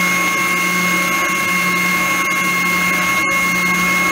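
A drum sander whirs in a steady, loud drone with a constant tonal hum while smoothing the edges of wooden baby teethers, with one brief dip in the sound near the end.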